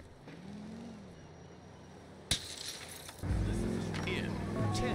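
Car engine running while driving in Grand Theft Auto IV, a low hum that swells louder partway through as the car speeds up, under a man's speech and a sharp knock.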